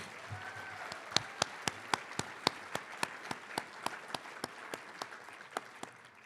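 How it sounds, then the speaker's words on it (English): At a Purple Ribbon Breakfast, guests clap for the executive director in a steady, evenly spaced rhythm of sharp distinct claps over a soft room murmur, fairly quiet overall. "Can we have a big round of applause for our executive director"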